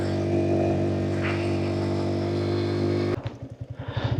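A Yamaha R15M motorcycle engine drones steadily and loud, close by, while riding a deep, muddy mountain road; near the end the tone drops into a choppy, pulsing low idle.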